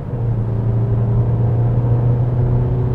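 A Mazda CX-5 with a 2.5-litre engine and six-speed automatic accelerates in drive, giving a steady, loud low engine drone with road rumble throughout.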